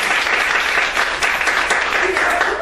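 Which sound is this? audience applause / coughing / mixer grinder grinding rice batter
audience applause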